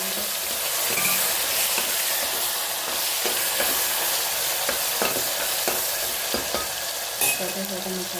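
Tomatoes sizzle steadily in hot oil with popped mustard seeds, stirred with scattered clinks and scrapes against the pan, close and continuous with no voices.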